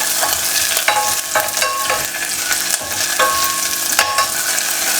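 Chopped ginger and garlic stirred in a hot pan for a Kerala chicken curry, steady sizzling with repeated scraping strokes of a spoon against the pan, close and continuous.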